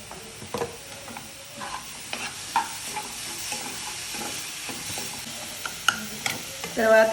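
Onions and tomatoes fry in a pan with a low steady sizzle, punctuated by irregular clinks and scrapes of a spoon stirring, louder bursts near the end.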